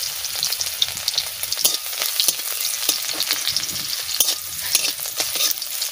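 Garlic sizzling in hot mustard oil for fried greens, a bright continuous crackle with spatula scrapes and stirring knocks, close and steady with no talking.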